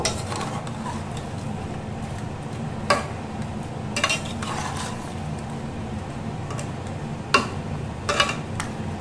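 Six prawns stirred through a hot cooking pan with a steady sizzle and hiss, broken by a few sharp scrapes and clinks of the spoon against the pan.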